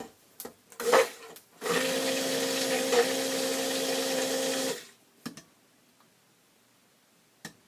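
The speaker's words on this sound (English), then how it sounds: "I'm going to stick blend this just a little bit more to thicken it up a tad bit." An immersion stick blender whirs steadily for about three seconds in cold process soap batter, close and fairly loud, with brief handling knocks before and after.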